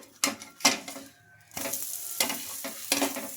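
A dosa fries in oil on a pan, with bursts of sizzling hiss and spatula scrapes coming in uneven waves, close and moderately loud, separated by a short quieter gap.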